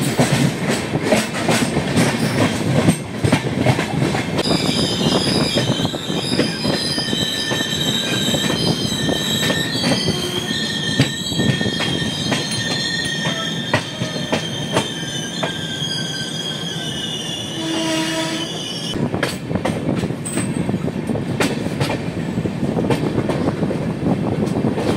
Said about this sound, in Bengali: এক্সপ্রেস ট্রেনের সাথে দেখা হয়ে গেল।